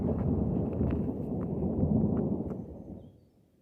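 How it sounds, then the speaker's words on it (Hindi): A deep, low rumble of thunder rolls continuously for a few seconds, then gradually fades away, across open sky in a mountain forest. "सुनिए आपने आवाज आसमान के गरजने की।"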